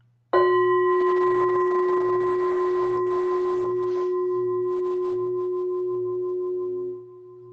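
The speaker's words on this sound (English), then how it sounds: "I'm going to gong this gong" A gong struck once: a sudden bright strike that rings on as a sustained, shimmering metallic tone and slowly fades for about seven seconds before being damped, close and loud with no voices.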